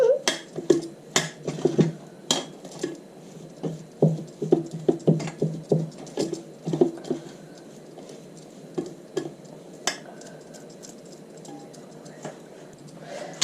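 A spoon stirs a spice mixture in a bowl for pepper pakora stuffing, giving a run of light, rhythmic clicks and taps close up that thin out into scattered ticks, with no talking.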